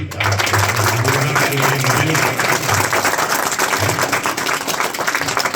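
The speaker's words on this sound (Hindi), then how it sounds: "ताली बजाइए।" Steady, dense applause fills a school assembly at a government inter college during a computer donation ceremony, with many hands clapping continuously over a low background hum.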